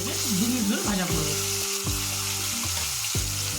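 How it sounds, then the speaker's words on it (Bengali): Hilsa fish heads fry in hot oil in a pan, a close, steady sizzle and spatter with faint tonal sounds in the background. "মাছের 2 পিস মিলিয়ে মোট আমরা ইলিশ মাছের মাথাগুলোকে 2 মিনিট ধরে ভাজা করব।"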